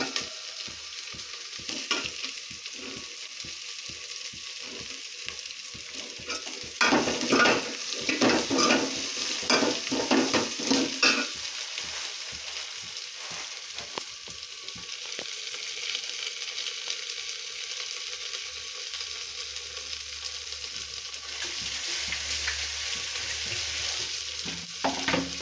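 Curry leaves and cut drumsticks crackle and sizzle in hot oil for a South Indian tempering, with a burst of sputtering and stirring in the middle, steady frying hiss throughout, no voices.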